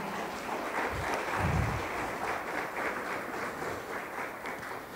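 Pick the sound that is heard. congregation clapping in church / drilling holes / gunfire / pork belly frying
congregation clapping in church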